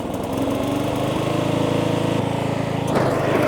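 An off-road lawn mower engine runs hard at full power for a wheelie attempt, a loud, close, buzzing drone that climbs in pitch and intensity near the end.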